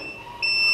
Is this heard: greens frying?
no